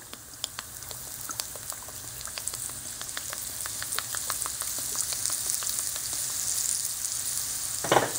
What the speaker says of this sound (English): This is the spice powder made from coriander, cumin, and salt. I've added it and I will fry it lightly.